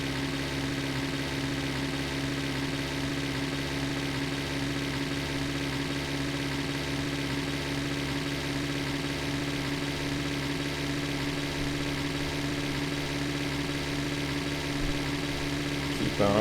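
A car engine labors uphill in The Long Drive, the engine running warm with a steady droning hum that stays constant and moderately loud throughout.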